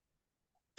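A single short cough in a classroom, sharp and close, bursting out of near silence at the very end.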